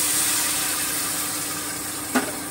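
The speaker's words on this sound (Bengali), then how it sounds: "এবারে আমি একটুখানি গরম জল দিয়ে দেবো, যাতে মশলাটা ধরে না যায় কড়াইয়ে" Steady hot sizzle of spice paste with tomatoes frying in a wok (kadai) for butter chicken as hot water is added, a continuous close hiss broken by one brief sharper burst near the end.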